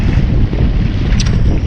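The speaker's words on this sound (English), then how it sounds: "It is windy nonetheless." Gusty wind buffets the microphone while kayak fishing from a Hobie saltwater kayak near Matlacha, Florida, a steady loud low roar of wind noise over open water with no speech.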